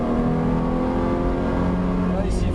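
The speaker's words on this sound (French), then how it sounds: "Alors, on lâche les freins et on accélère." A car engine hums and pulls steadily as the driver releases the brakes and accelerates, a continuous close drone with a low tonal rumble that holds fairly even throughout, heard from inside the vehicle.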